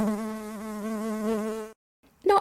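Bees buzz in a steady, close, harmonic drone that runs for under two seconds, then cuts off into a brief silence before a short burst of sound.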